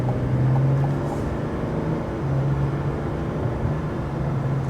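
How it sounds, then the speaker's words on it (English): Steady low diesel drone from the exhaust of a 2026 GMC Sierra 1500 Denali Ultimate pickup with a 3-liter Duramax diesel, cruising down the road, with a constant engine hum and road rumble and no talking. "Just to give you a little bit of an exhaust clip from that 3-liter Duramax diesel."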